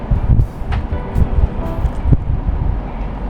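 Steady wind on a rooftop buffeting the microphone with a low, gusty rumble throughout, a few faint rustles on top, and no one speaking.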